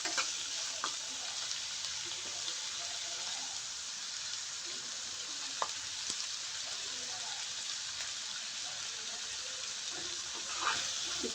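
Chopped vegetables for chowmein fry in a pan with a steady, close sizzling hiss that runs throughout, broken by a few sharp pops and crackles.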